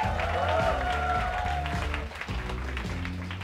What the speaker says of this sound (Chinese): 掌声欢迎巴斯